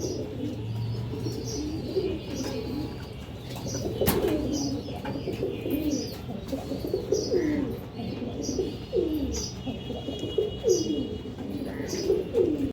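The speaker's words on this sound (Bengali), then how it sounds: "এখানে একটা সিলভার বেজি লাইনের কবুতর আছে এক জোড়া।" A pair of silver beji line pigeons coo steadily indoors, soft repeated calls close by with occasional chirps, a brief wing flutter and one sharp knock partway through.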